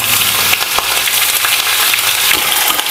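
Black pepper, cumin, ginger and green chilies sizzle in hot oil in a pan, giving a loud, dense, continuous crackling hiss with occasional stirring scrapes.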